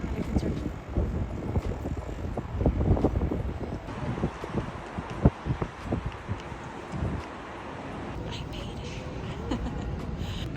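Gusty wind buffets the microphone on a rooftop deck in Paris in uneven bursts, roaring and rumbling loudly, easing toward the end into a steadier blustery hiss.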